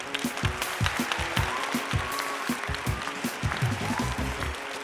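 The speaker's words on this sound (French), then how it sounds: "Tout le monde voit le panneau réparé et applaudit avec enthousiasme." Enthusiastic crowd applause at a classic finale, dense continuous clapping with scattered louder claps, steady and fairly near throughout.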